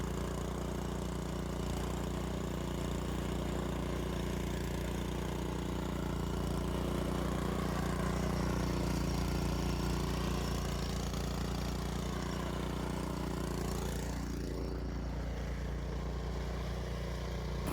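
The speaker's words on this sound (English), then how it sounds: "losing traction here, so she's sort of porpoising the snowblower through this" A PowerSmart snowblower engine drones steadily and loudly as the machine pushes through deep snow, losing traction. The engine note shifts slightly near the end.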